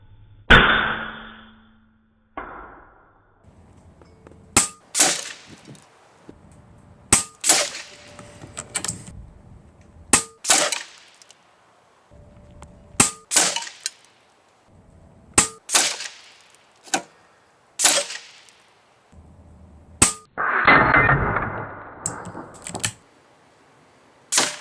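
A Taipan Veteran Long .25 air rifle fires about ten sharp, close cracks spaced a few seconds apart while shooting at targets at 50 yards, with quiet gaps and some handling noise between shots.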